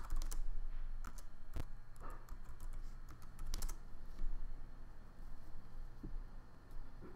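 A password is typed on a computer keyboard, with scattered soft clicking keystrokes in uneven bursts, fairly close and quiet over faint background hum.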